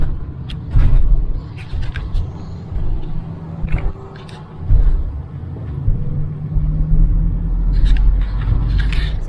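Car driving through early-morning construction traffic in Winnipeg: a continuous low road rumble with engine hum and occasional bumps and clatter, fairly loud and close throughout.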